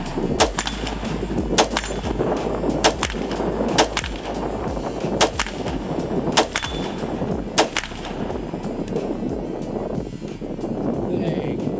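An M+M M10x rifle firing brass-cased ammunition on gas setting 1, a string of sharp, loud shots at irregular intervals of about a second, with outdoor rumble between them and a voice speaking briefly.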